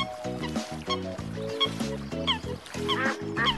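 Cartoon ducks quack in a quick, bouncy series of nasal calls, close and bright, with several overlapping quacks throughout.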